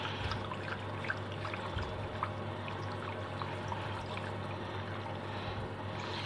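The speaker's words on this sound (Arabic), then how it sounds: "هنبتدي نقلب السكر عشان ندوبه، ونقلب الكاكاو يستوي شويه جوه اللبن" Sugar and cocoa being stirred into milk in a pot give a steady, continuous liquid swishing and sloshing, close and even in level throughout, with a low hum underneath and no talking.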